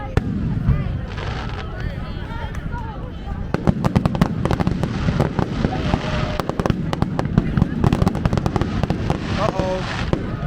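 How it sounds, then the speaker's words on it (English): Fourth of July fireworks burst in rapid, loud volleys, with dense crackling pops and booms stacking up across the sky while people shout and talk excitedly over the show. "Fireworks are better."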